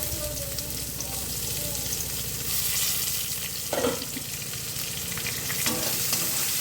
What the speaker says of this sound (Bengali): ভেজে নিচ্ছি ভালো করে।